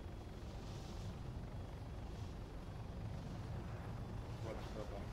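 Hummingbird helicopter in Arma 3, a steady broadband rotor and engine drone that runs continuously and stays moderately loud, with voices talking over it.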